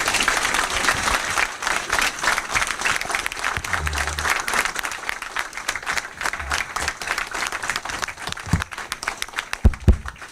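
A congregation claps for a visiting bishop at a religious gathering, a lively burst of many hands with uneven rhythm and a few louder individual claps and thumps near the end.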